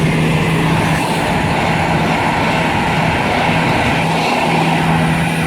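A train departing Tamworth station on the West Coast Main Line, a loud continuous engine drone and rumble with a steady low tone held throughout.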